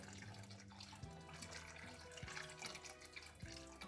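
Boiling water is poured over porridge in a bowl, a faint gurgling trickle with small splashes and a few knocks, running continuously at low level.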